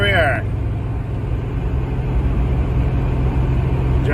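A car drives along a road in northern Ontario, heard as a steady low interior rumble of engine and tires throughout, with a brief chime-like tone at the start.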